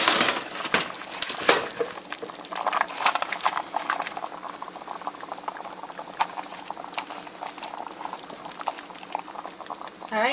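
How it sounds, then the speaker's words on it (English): A stew of carrots and gumbo bubbles in a pot on the stove, a steady close burble of popping bubbles with small splashes, no voices over it. "I'm gonna leave this to boil for another 20 minutes"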